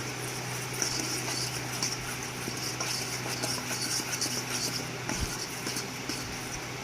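Spiced chicken marinade being mixed for tandoori chicken strips, giving steady wet stirring and scraping with light clinks of a utensil against the bowl, close and continuous.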